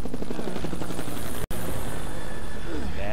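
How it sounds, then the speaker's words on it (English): A helicopter's loud rotor chop and engine roar in the video game Splinter Cell: Conviction fill the scene continuously, close by, with a brief dropout midway. "Helicopter."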